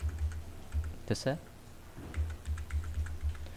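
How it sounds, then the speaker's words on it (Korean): Keys on a computer keyboard are tapped in short repeated clicks, a few quick presses, a pause, then a longer run of taps, while a person speaks briefly in the middle. "키보드의 위아래를 누릅니다"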